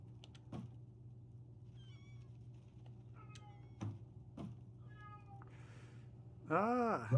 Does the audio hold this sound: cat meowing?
yes